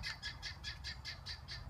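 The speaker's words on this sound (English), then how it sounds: "It's one of the guinea fowls shouting at us." A guinea fowl in a field gives a rapid run of harsh, rhythmic squawks, about six per second, faint and somewhat distant over a low rumble of background noise.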